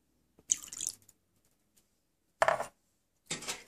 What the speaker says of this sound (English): I'm going to add a little bit of sake.